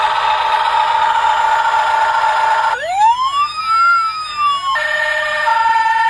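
A toy fire engine plays electronic sound effects: a steady synthetic siren tone, then a wailing sweep that rises and falls, then the steady tone again, loud and close with no talking.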